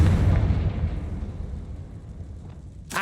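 A Confringo blasting spell explodes in the video game Hogwarts Legacy, a loud close boom with a heavy rumbling tail that fades over a few seconds before a sharp burst at the end.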